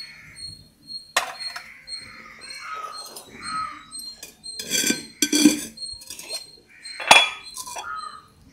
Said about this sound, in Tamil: இப்போ எண்ணெய் சட்டியை போட்டோம்.